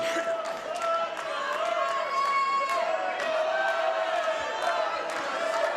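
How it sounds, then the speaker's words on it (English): Crowd at a professional boxing event cheering during ring introductions: a sustained roar of many voices in a large arena, with whistles and shouts rising above a steady wash of noise. "the crowd are into it"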